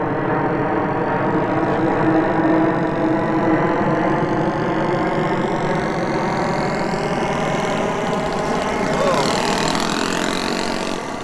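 A Flair Magnatilla RC model plane engine drones steadily as the plane comes in to land. The loud, continuous buzz holds an even pitch, with a faint rising whine near the end.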